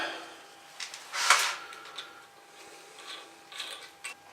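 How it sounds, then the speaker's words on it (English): Metal washer and nut threaded onto the bolt of a 1950s toilet, giving a few close, light metallic clicks and ratcheting scrapes, loudest in one brief burst, with no talking. "we get a washer and we get our nut"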